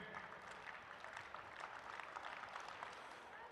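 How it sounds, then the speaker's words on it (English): Crowd applause at a weightlifting competition session, urging on a lifter's attempt; a dense, sustained wash of clapping at moderate distance that holds steady throughout, without clear voices. "Let's get those claps going."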